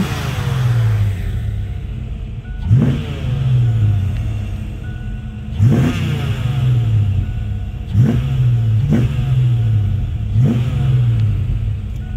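A 1987 Ford Mustang 5.0 GT convertible with a V8 rumbles loudly and steadily at idle. Its engine is blipped into sharp revs about four times, roughly every two to three seconds, with no voices.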